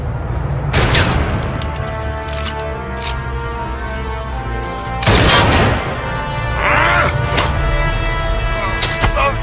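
Gunshots in the Batman: Arkham Knight game, heard as several sharp, loud cracks spread across the clip, with music and other game sounds around them.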